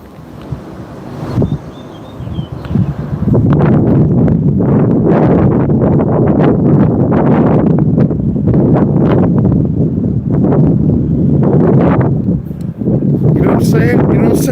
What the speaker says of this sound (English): It's too windy, man.